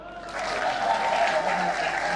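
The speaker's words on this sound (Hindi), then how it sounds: "ताली बजाइए।" An audience applauds at a poetry and song concert, with dense, sustained clapping from a large crowd that rises quickly and holds steady, with a faint sung or hummed tone underneath.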